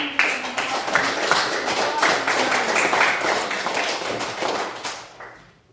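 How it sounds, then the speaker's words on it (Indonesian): A classroom of students claps for a group of classmates who have just finished presenting, a dense, steady patter of many hands that holds for about five seconds before quickly dying away. "kita berikan aplaus kepada teman"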